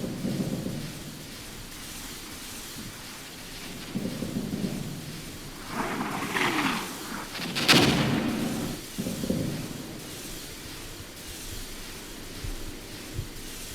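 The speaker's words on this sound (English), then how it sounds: "We'll go ahead and fire a volley" In the Armored Brigade war game, an artillery volley is fired near the Elbe as a series of deep, rumbling booms rolling like thunder, with the heaviest blast midway through and quieter thuds around it.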